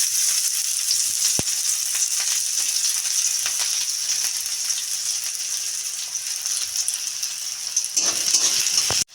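Chopped onion sizzles in a little hot oil in a wok, a steady close crackling fry that runs throughout, with a brief clink near the start and a louder burst of sizzle at the end.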